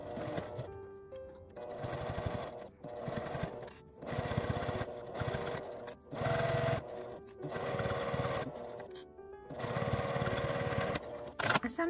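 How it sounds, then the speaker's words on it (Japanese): A sewing machine edge-stitches a zipper onto a coin-through wallet bag, running in close, rapid bursts of stitching separated by brief pauses. "留め具のところから端まで端ミシンをかけます。"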